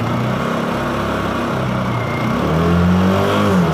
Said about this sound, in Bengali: এই বাইকের সাউন্ড কিন্তু আগের অ্যাপাচির থেকে যথেষ্ট অ্যাগ্রেসিভ সাউন্ড ইউজ করা হয়েছে